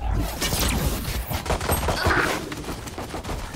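Valorant gameplay fills the clip with rapid, overlapping pistol shots from Ghost pistols in a collegiate match, the bursts dense and close, with a commentator talking over the action.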